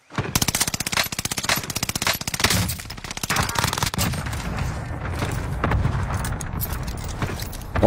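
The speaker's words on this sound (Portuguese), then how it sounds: "Nossa, mas essa arma aqui é boa mesmo, hein, rapaziada." Rapid automatic weapon fire from a gun in the shooter game Warzone 2, a dense loud burst of shots for the first few seconds followed by sustained rumbling gunfire and explosions, with no talking.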